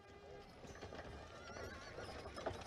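A horse neighs amid clip-clopping hooves of a horse-drawn carriage, a steady, fairly busy mix with a faint voice in the background.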